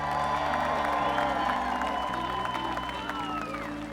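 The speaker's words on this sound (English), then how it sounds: "Give them a round of applause." Audience applause with cheering at a country music salute to America's heroes, honoring the Millard family: loud steady crowd clapping over sustained music chords that shift every second or so.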